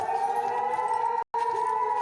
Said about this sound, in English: As warning sirens blared